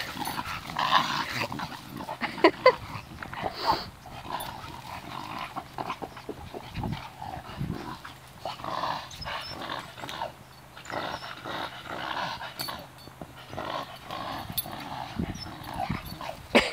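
A puppy growls and whimpers in scattered bursts, fairly close, with rustling and movement between the sounds.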